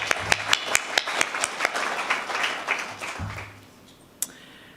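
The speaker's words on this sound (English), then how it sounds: "Round of applause." Audience applause at a business scholarship award ceremony, a run of sharp distinct claps that swells briefly and then tapers away, followed by one last lone clap.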